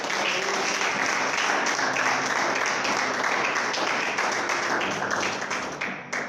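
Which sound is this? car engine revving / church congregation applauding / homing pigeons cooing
church congregation applauding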